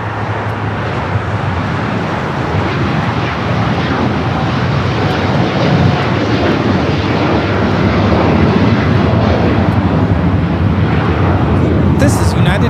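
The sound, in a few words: United Airlines Boeing 787-9 Dreamliner taking off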